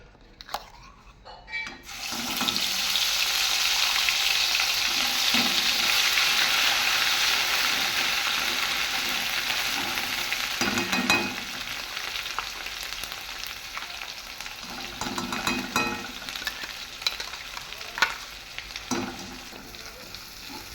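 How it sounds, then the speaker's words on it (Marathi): Masala roasting in hot oil in a kadai for a paneer curry gives a loud, steady frying sizzle, broken by repeated scraping stirs against the pan, with no one speaking. "मी आता यामध्ये मसाला टाकून घेणार आहे"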